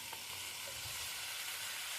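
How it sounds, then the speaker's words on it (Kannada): Tomatoes and tamarind frying in a pan for tomato chutney, a soft, even sizzle that holds steady throughout with no voices. "ಮತ್ತು ಸ್ವಲ್ಪ ಫ್ರೈ ಮಾಡಿ."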